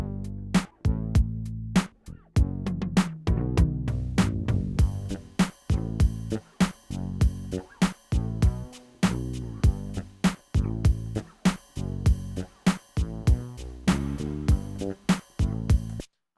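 Synth bass in mono mode with a short release locks into a groovy drum pattern, punchy kicks and snappy hits landing in a steady rhythm throughout, loud and alone with no voice.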